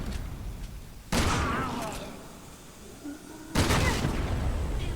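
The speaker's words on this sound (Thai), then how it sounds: "ระเบิด" Two loud, sudden blasts go off in the video game Resident Evil 6, each a sharp boom that decays into a rumbling tail, the second hitting a few seconds after the first amid game background noise.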